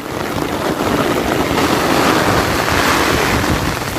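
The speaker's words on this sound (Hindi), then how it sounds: "ये देखिए इस तरफ बहुत तूफानी हवा भी है" Strong stormy wind sweeping across open farm fields during heavy rain, a loud, steady broadband roar with gusty surges and wind buffeting the microphone throughout.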